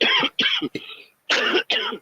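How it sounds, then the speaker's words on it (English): A man coughs several times near a microphone, a loud, harsh burst of three quick coughs, a short pause, then two more. "let me mute the mic and cough"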